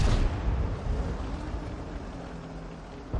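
A 155 mm artillery shell fired from the Bat.-Châtillon 155 58 self-propelled gun in World of Tanks, a loud, boomy blast at the start that rolls into a long rumbling decay, with a second thud near the end.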